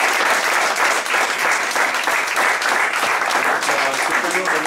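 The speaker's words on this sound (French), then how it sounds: "Je lui demande de l'applaudir." Loud, continuous applause from an audience at a club gathering fills the entire stretch, dense and even with no pauses, honoring a pizza restaurant sponsor.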